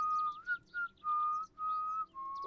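A man's merry whistling in The Excavation of Hob's Barrow video game: a simple tune of several sustained, slightly wavering notes with short gaps between phrases, clear and fairly close, with no talk.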